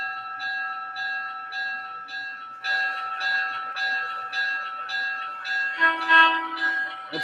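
Rhythmic electronic bell ringing from a Rail King Doodlebug model train's sound system, evenly repeated dings with a steady tone underneath and a brief horn-like burst near the end.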